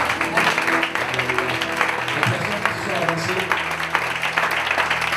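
A church congregation applauds steadily in a large hall, the clapping sustained and mixed with voices and cheering throughout.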